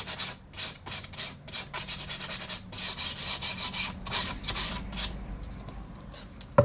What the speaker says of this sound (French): vous allez prendre un petit morceau de papier de verre relativement fin, vous allez prendre du 150 au minimum, et vous allez poncer légèrement